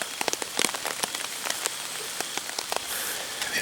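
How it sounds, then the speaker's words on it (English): Rain falls outdoors during a bowhunt, a steady hiss of rain on surfaces with close, scattered drop taps pattering throughout. "And then it started raining"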